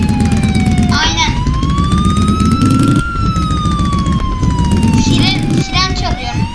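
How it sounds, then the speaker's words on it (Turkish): A police siren in a video game wails up and down continuously, loud and close, while sharper bursts of game sound break in several times. "İster P'ye tıklayıp da siren çalıyorsun."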